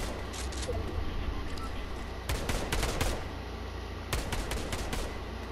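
Rapid automatic gunfire in Fortnite Zero Build duos comes in two dense bursts with a sustained background of game ambience, fairly loud and close, with no talking.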